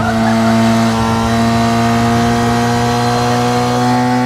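Motorbike engine revving up as it speeds, used as a horror-story sound effect; a loud, steady harmonic whine that holds without a break, with no voices.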